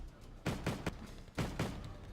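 Cannon fire in the war strategy game Wargame Red Dragon comes as two loud paired bursts, each a quick double thump, with no talk.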